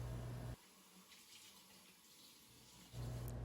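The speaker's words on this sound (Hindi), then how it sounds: "घर में आके मैंने पत्तों को बहुत अच्छी तरह से धोया" Leaves rinsed under a running kitchen tap, a steady close hiss of water splashing that briefly changes tone in the middle as the hands and leaves move under the stream, with no talking.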